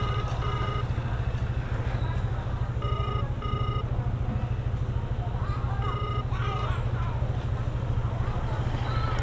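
A phone rings out while a call is placed to the owner of a wallet found on the road, a repeating electronic ring tone heard in bursts over loud steady street traffic and engine rumble.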